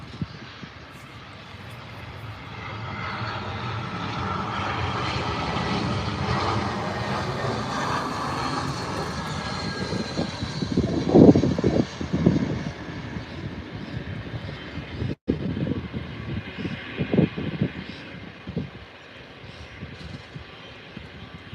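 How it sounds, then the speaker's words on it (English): A Virgin Australia Airbus A320 jet lands at Adelaide Airport, its engine roar swelling loud and steady for several seconds, then easing into a lower, rumbling, uneven drone as it rolls out. "Virgin Australia A320 coming in from Perth, it looks like."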